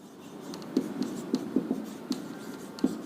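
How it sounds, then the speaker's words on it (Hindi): Pen or pencil writing by hand during a physics lesson on current electricity, scratchy strokes with light taps coming in an uneven rhythm, close and fairly quiet, with no talking. "तो इसके बारे में लिख देता हूं पहले."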